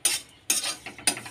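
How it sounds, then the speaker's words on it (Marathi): Poha is stirred in a hot kadhai, making three brisk, close scraping strokes with a faint rustle of flakes between them. "पोहे छान भाजल्या जात आहे आणि आता काढून घेत आहे"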